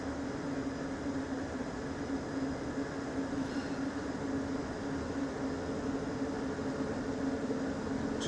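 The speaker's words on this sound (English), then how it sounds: "welcome aboard the Disneyland monorail" Steady low rumble and hum of a ride aboard the Disneyland monorail, a constant rolling drone heard from inside the car, moderately quiet, with no voices.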